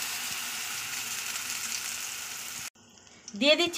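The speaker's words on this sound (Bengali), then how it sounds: "এখন কড়াইশুঁটির পেস্টটাকে দিয়ে দিচ্ছি" Mashed green pea paste sizzles steadily in hot ghee in a wok, a loud continuous fry that breaks off abruptly near the end, followed by a brief clatter and a higher scrape.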